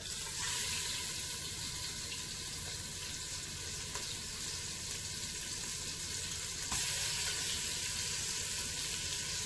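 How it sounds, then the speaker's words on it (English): Seasoned pork pieces sear in an Instant Pot, producing a loud, continuous hiss and sizzle close by with a brief sharper crackle partway through, no speech. "so I'm going to set it in and let them start searing."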